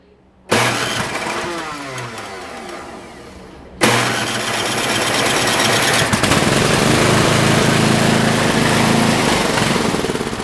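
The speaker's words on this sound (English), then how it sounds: "Crank her up! Pull start, Chuck." A pull-start engine cranks with a rough sputter, cuts out, then catches on a second pull and settles into a loud, steady running roar close by.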